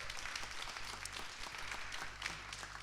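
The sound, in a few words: applause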